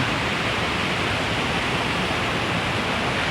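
A golden-coloured waterfall roars as a steady, dense rush of falling water, close and loud, filling the whole moment with no voices.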